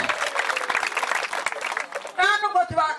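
A church congregation claps together in praise of God, a dense, steady patter of many hands that fades as a voice rises over it near the end.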